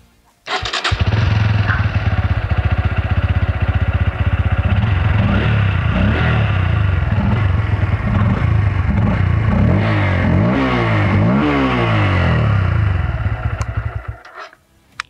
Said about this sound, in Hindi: एक बारी मैं आपको बाइक स्टार्ट करके ज़रूर दिखाना चाहूँगा और सुनाना चाहूँगा कि एक्चुअली में एग्जॉस्ट रियल टाइम में साउंड कैसा करता है P150 का